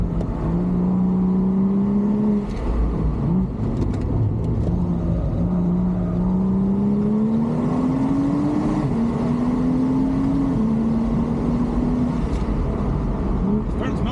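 A 2011 BMW 135i engine drones and rises and falls in pitch as it drives the winding Tail of the Dragon road, loud and continuous from inside the car, with people talking over it.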